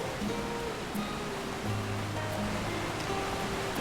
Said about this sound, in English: There's some flowing river.